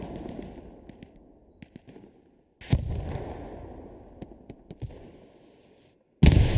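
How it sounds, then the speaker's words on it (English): Rockets fired in the video game Hell Let Loose during a competitive match: a sharp launch blast followed by a long whooshing rumble, with scattered distant pops and thuds, then another loud burst at the end. "Nice rockets."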